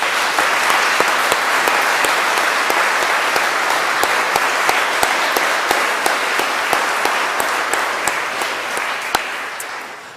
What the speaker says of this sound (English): so we can acknowledge your work with a huge round of applause